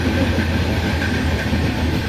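An Indian Railways New Delhi–Bhubaneswar Duronto express runs near Ghaziabad in Indian Train Simulator, making a loud, continuous rumble of wheels on rails with no speech.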